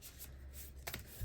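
Tarot cards are shuffled by hand in a quick, soft riffling burst, brief and faint, with a light papery rustle close up.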